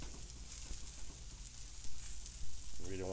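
Veggie burger patties sizzle and fry in a pan with a steady crackling hiss, close and fairly loud, with a brief stir near the end.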